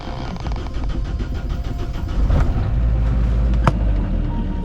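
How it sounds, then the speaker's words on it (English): A boat's engine turning over and catching, then running steadily at a low idle, fairly close, with a louder mechanical rise midway and a sharp knock near the end, no voices. "So let's start the engine and go."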